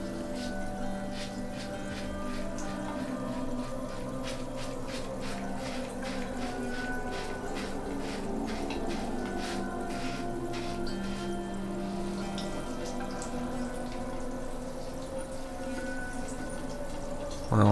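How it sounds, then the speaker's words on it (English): A sink faucet runs in a steady, even stream, with a soft continuous wash and faint irregular drips and splashes in an otherwise quiet room. "There were no sounds apart from the running water of the sink faucet"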